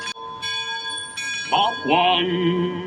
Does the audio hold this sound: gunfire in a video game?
no